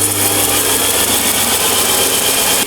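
A wooden DIY bandsaw makes a freehand test cut through a board about 145 mm wide, giving a steady, loud rasping buzz that continues almost unbroken before stopping abruptly at the end.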